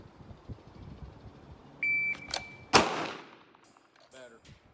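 Handgun shots during a range drill: one sharp crack near the middle after an electronic timer beep, followed by fainter report echoes, with quiet background chatter.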